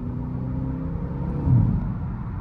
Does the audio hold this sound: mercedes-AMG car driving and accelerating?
yes